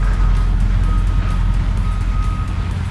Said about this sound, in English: My neighbor just, he's bringing his trailer home, I reckon.